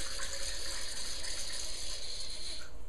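A 2009 Orin Swift Abstract red wine is poured through a Venturi aerator, giving a loud, close, continuous gurgling rush with an airy hiss that lasts about three seconds and stops abruptly, with no talking.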